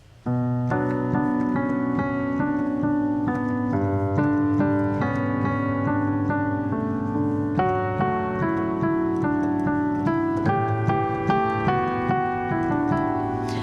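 A keyboard plays a steady, repeating chord pattern with bright melodic notes on top, continuous and clear, with no voices.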